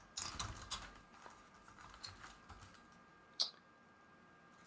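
Keys on a computer keyboard clack in a quiet, irregular burst of taps, close and faint, with one sharper click near the end.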